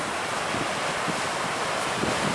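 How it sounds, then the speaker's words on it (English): Water rushing steadily down a waterfall into a canyon on an Icelandic hiking trail, a continuous broad roar with wind buffeting the microphone. "There are literally waterfalls everywhere coming down."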